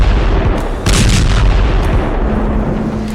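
Loud booms and heavy blasts from Israeli army bombardment of Hamas positions in Gaza, with deep rumbling impacts and sharper cracks overlapping in a dense, continuous barrage.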